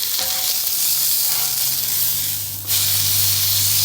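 Bacon and eggs sizzle on an outdoor griddle in Flagstaff, a steady close hiss of frying fat with a low hum underneath and a brief dip before the sizzle swells again.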